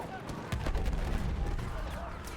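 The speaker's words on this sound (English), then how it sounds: "it sounded like a pretty big explosion up there" A deep, booming blast erupts in Battlefield 1, a big explosion with heavy low rumble followed by scattered gunfire-like cracks, close and loud, with voices nearby.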